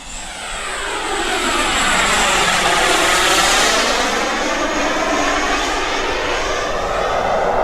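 Freewing Zeus 45NT foam RC sport jet with its turbine engine roaring loud and steady, a broad whooshing jet whine that swells as power rises and holds near full throttle throughout.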